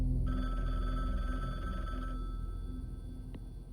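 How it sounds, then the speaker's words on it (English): A telephone ringing in the Bookwalker video game, a steady electronic ring tone over a constant low hum that cuts off partway through. "And there's the phone call."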